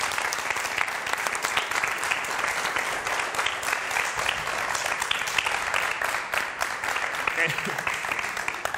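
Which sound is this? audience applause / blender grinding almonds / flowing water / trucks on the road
audience applause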